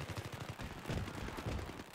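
Automatic gunfire in Battlefield 3 on Noshahr Canals, a rapid, steady rattle of full-auto shots, distant-sounding and fairly quiet, running without a break.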